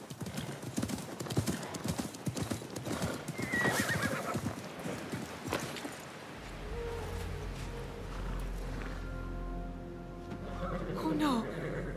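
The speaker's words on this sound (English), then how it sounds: "My father's horse!" A horse in the video game Assassin's Creed Mirage whinnies over steady clopping hooves, joined by other game sounds and voices, with a long drawn-out neigh toward the end.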